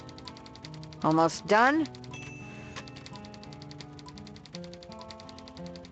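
Rapid, steady typewriter keystrokes clatter through the video game Thimbleweed Park in an even rhythm, interrupted early on by a brief spoken question and an electronic chime-like tone.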